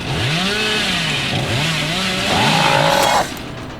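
Chainsaw revving in the horror game Dead by Daylight, a loud continuous engine drone with rising and falling pitch sweeps, swelling into a higher sustained whine near the end before cutting off.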